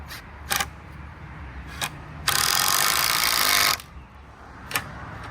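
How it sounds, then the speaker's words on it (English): A power drill drives screws into parts of an animal enclosure, with one sustained whirring burst in the middle and several short clicks and bursts around it, close and without talk. "He's holding it and I'm screwing it"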